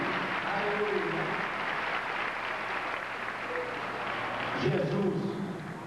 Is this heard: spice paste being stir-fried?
no